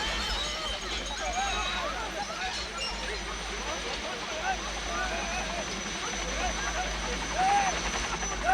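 A helicopter passes over a residential area with a continuous loud rotor roar and rumble that swells slightly toward the end.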